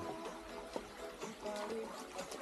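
Water in a rural creek runs steadily over stones, a soft, continuous close-by babble and trickle with no voices.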